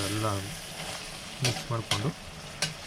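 Grated coconut being mixed into oil in a pan over low heat for a pumpkin palya, giving a soft hiss with a few quick scraping stirs, close; a short low hum or vocal sound begins it.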